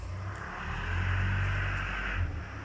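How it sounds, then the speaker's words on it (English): A noisy forklift in a workshop pulling away, a low droning engine hum that swells and then fades as it moves off, moderately loud and alone. "When the noisy forklift decides it's going to bugger off"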